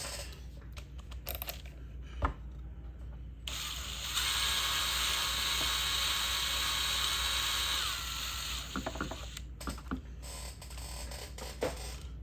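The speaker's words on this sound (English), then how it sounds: "We're going to run the drill through again and wiggle." A power drill whirs steadily for several seconds, high and grinding, as it runs through a hole in a homemade model paving slab, with clicks and handling noises before and after.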